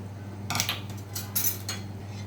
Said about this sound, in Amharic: ይኸው ካስተሩ እንደዚህ በጥብጫዋለሁ።